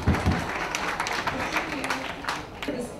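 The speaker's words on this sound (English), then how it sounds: "You can clap please for her." An audience at a book launch for The House That Spoke claps for a woman introduced from a publishing house, scattered clapping mixed with crowd murmur and some talk.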